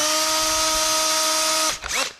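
A drill press bores holes for knock-down mortise joinery, its motor whining steadily for over a second before winding down, with a short second burst of cutting right after.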